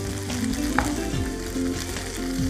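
Grated jaggery stirred into cooked rice for a sugarcane-juice payasam, giving a steady soft sizzle with scraping stirs under it, close and continuous, with no voices.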